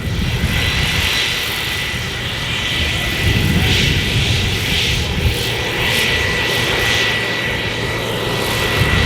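A turbofan regional airliner test aircraft flies a display at the Farnborough Airshow 2024, its engines giving a loud, steady roar that swells slightly in the middle and holds throughout with no voices.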